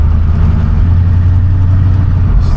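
A 1972 Ford Mustang engine running while driving, a loud, steady low rumble with a strong drone and no voices.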